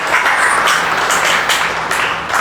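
A church congregation applauds during a sermon, a dense, continuous wash of many hands clapping at once, loud and close, with no voices rising above it.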